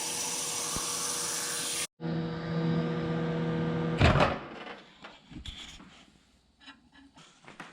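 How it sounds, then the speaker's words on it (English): A microwave oven runs with a steady mechanical hum and whine, stops abruptly, restarts briefly, then gives way to clicks, a door-like thump and scattered handling noises in a quiet room. "So I'm gonna go put some water in the microwave"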